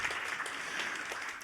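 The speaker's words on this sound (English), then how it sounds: "You can clap for that." Short burst of audience applause at a maternal mental health awards ceremony, steady clapping with no voices over it.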